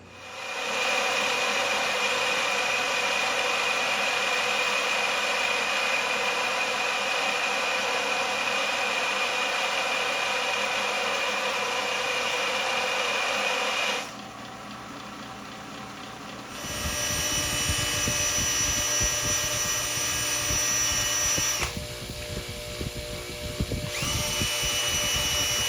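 Belt sander grinding the valves from a Toyota Aristo's 2JZ-GE VVT-i cylinder head: a loud, steady high-pitched whine runs for about fourteen seconds, dips briefly, then resumes with rougher grinding contact and another short drop near the end.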